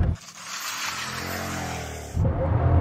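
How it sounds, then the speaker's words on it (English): Bugatti Chiron Pur Sport pulling away under launch control: a loud, sustained engine roar with rising harmonics as it accelerates hard, then a rougher burst of wind and road noise near the end, no talking. "Left foot hard on the brake, launch control engaged, floor throttle, build boost, go."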